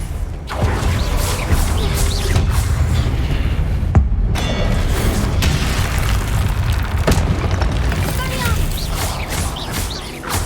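Repeated explosive booms from the Confringo blasting spell in Hogwarts Legacy, loud and dense over a constant roar of combat, with a sharp blast near the middle and a voice calling out over the action.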